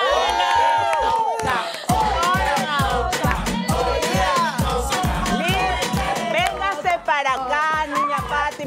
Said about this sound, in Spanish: Bienvenida, Lizeth Sedeño, un fuerte aplauso.